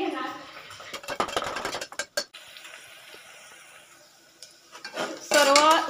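A spoon scrapes and clinks around a metal pan while onion and brinjal pieces are stirred over heat, with bursts of clattering, a quieter pause and a brief voice near the end.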